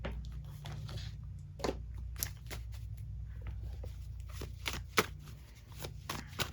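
Playing cards being shuffled from a deck, a soft continuous riffle with sharp flicks and slaps scattered throughout, close and fairly quiet over a low steady background hum.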